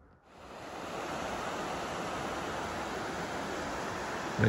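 Big Fall Creek near Unity, Oregon, by a 1936 covered bridge, its flowing water a steady, full rushing wash that rises quickly at the start and holds evenly.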